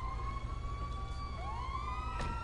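A police car siren in the GTA video game wails steadily with rising and falling tones over a constant low engine rumble, continuous and fairly close throughout.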